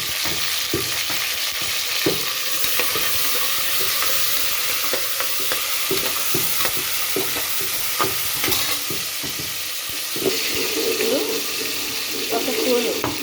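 Chopped tomato goes into browned onions frying in a pan, with steady sizzling and frequent scraping stirs of a spoon, and a voice faintly present underneath.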